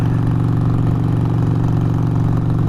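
Harley-Davidson Sportster motorcycle engine idling steadily at close range, a loud, continuous low throb with an even lumpy pulse and no revving or speech.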